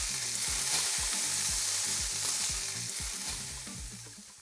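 Lamb chops searing in a hot pan give a steady, loud broadband sizzle with rhythmic low knocks, probably a backing beat, fading slightly toward the end, with no talk.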